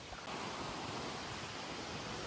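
River water rushing steadily beneath a bridge on an open rural plain, a continuous broadband wash of flowing water heard up close and fairly loud, with no voices.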